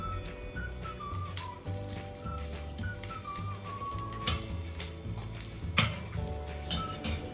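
Whole spices — cinnamon stick, star anise, cardamom, dried chili and cumin — frying in hot oil for a pumpkin curry, a soft steady sizzle with a few sharp clinks from stirring, background music running underneath throughout.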